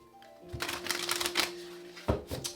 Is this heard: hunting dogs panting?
no